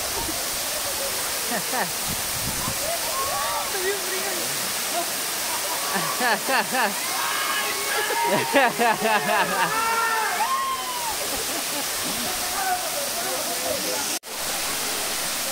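Waterfall at Puente Calderón ecotourism park in Zapotlanejo, Jalisco, a steady broad rush of falling water throughout, with people talking and voices calling over it.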